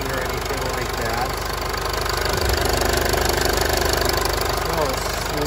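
Steady, close idle of a 2014 Mercedes-Benz GLK250 Bluetec diesel engine heard from the engine compartment, an even low rumble with a fine rhythmic clatter that holds constant throughout.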